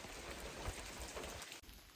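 Steady rain patters down on a rainy day along the Appalachian Trail between Tumbling Run Shelter and Peters Mountain Shelter, a dense continuous hiss of drops on surfaces with no voices.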